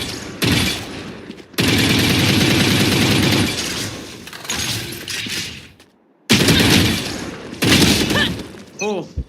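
Gunfire in a one-on-one shooting video game match, with sustained rapid bursts and booms in long loud stretches broken by brief pauses, a shattering sound near the end, and players talking over it.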